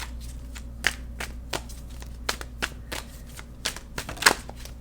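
Tarot cards being shuffled by hand at a table, a run of crisp riffling bursts and soft slaps spaced irregularly over a low steady hum, close and fairly quiet.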